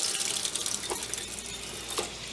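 Water pours into a container of fermenting cucumber seeds with a steady, close splashing trickle, a couple of brief louder gurgles standing out from the flow, with no voices.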